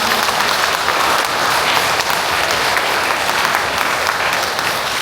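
Steady, loud applause from a congregation thanking a priest at a Catholic parish Holy Spirit seminar, a dense wash of clapping holding evenly throughout.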